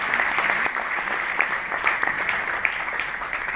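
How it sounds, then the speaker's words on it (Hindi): Audience clapping at a national Hindi poetry gathering at Kurukshetra University, steady dense applause from a sizable crowd lasting a few seconds. "एक बार तो तालियां इसी बात पे लगनी चाहिए।"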